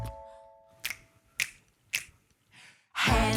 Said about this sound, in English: Can you make your fingers go snap